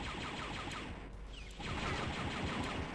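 Enemy gunfire in the shooter game Dark Forces: dense, continuous rattling blasts over a steady roar, loud and close, with a brief dip in the middle before the barrage resumes.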